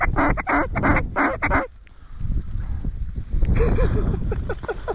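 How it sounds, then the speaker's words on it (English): About twenty ducks flying overhead during a snowy Alberta duck hunt, repeated nasal quacks in quick bursts, fairly close, with a lull midway before more calling resumes. "20 ducks in the air"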